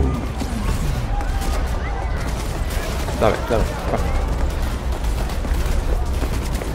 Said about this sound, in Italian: Attenzione, spari!